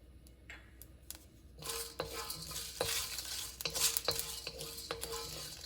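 Whole spices for Chettinad chicken masala, including cumin seeds, kalpasi, peppercorns and cloves, dry-roasting in a pan: a soft crackle and sizzle with repeated clinks and scrapes of a stirring spoon. The clip opens quietly and grows busier as stirring picks up.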